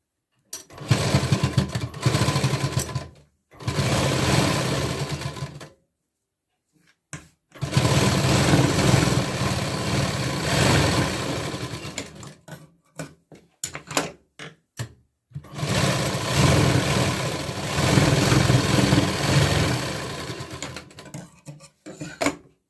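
A sewing machine runs in several long, steady bursts of stitching on a katori blouse, separated by short pauses, close and fairly loud with no talk.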